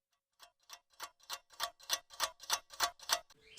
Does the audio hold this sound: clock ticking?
yes